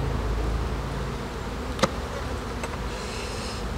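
Honeybees hum in a steady, close, continuous drone as a beehive is opened for inspection, with a couple of faint clicks from handling the frames.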